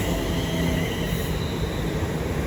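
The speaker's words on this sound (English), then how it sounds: "Also incoming is the 1746 London North Western Railway service to Tring." A London Northwestern Railway service to Tring, a Class 350 unit, rolls into Watford Junction, its steady rumble and wheel noise close and loud throughout.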